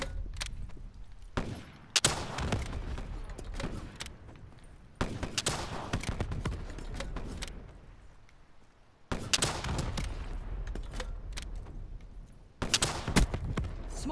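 Loud machine gun fire in Call of Duty Black Ops III comes in several long, rapid bursts separated by short lulls, with distant battle noise filling the gaps.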